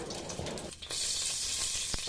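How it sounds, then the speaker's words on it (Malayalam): Ghee melting in a heated pan while making semiya payasam, a close, bright sizzle that starts abruptly after some faint stirring and carries on steadily. "നമ്മളെ പാത്രം ഒന്ന് ചൂടായല്ലോ അതിലേക്ക് കുറച്ച് നെയ്യ് ഇട്ട് കൊടുത്ത്"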